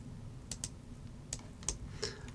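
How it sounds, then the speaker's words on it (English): A computer keyboard is typed on in a few soft, separate keystrokes and small clusters, quiet and near, with no talking. "if I was to type in here"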